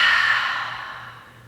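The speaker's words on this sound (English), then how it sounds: "And exhale through the mouth." A single long breath pushed out through the mouth during a guided breathing exercise, airy and close, loudest at the start and fading gradually over about a second and a half, with no speech.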